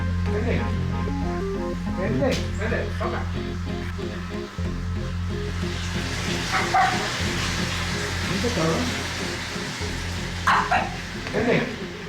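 A one-year-old dog at a boxing training camp in Big Bear, California, barks and yips in short bursts beneath ongoing conversation and background noise.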